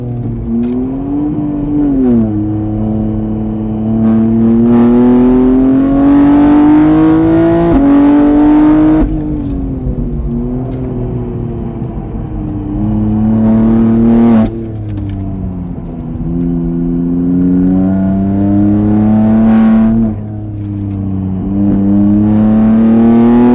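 A race car engine roars loudly and steadily on a track at Mireval, pitch climbing through the gears with brief drops at each shift, sustained and close throughout.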